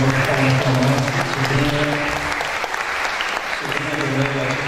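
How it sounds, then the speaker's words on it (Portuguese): An audience at an animation award ceremony claps steadily for several seconds, a dense patter of applause filling the room. "uma salva de palmas para nós."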